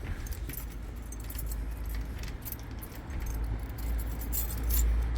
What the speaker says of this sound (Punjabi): ਇਹ ਚਾਬੀ ਆਪਾਂ ਨੂੰ ਦਿੱਤੀ ਘਰ ਵਾਲਿਆਂ ਨੇ ਤੇ ਆਪਾਂ ਇਹਨੂੰ ਓਪਨ ਕਰਦੇ ਆ